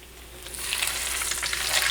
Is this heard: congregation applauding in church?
no